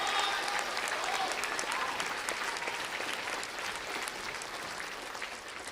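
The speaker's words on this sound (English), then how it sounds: "Y'all can clap for Josh, too." An audience at a school junior-class play production claps steadily for the sound booth operator, a dense, even wash of many hands that holds for several seconds and tapers slightly, with no voices over it.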